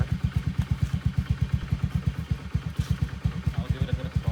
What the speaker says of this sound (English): Let it idle for a bit.